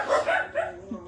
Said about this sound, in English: He's barking because the kids are home.